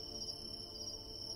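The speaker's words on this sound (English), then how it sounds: "You can even hear the crickets singing their songs too." Crickets sing in a tropical forest, a steady high-pitched trilling chorus that continues evenly without a break, with a faint low rumble of forest ambience underneath.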